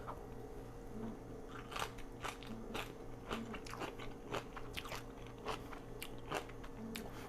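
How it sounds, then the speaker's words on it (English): Crisp, crunchy bites of two-month-fermented homemade sauerkraut taken up close, followed by steady chewing with repeated crackly crunches over a faint background hum. "I'm going to eat this now, and we're going to hear if we hear a crunch"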